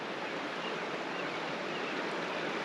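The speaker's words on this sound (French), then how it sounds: "ça va être paisible avec l'eau qui coule aux côtés," A small river flows beside a campsite near Banff, giving a steady, even rush of water that stays constant throughout with no talking.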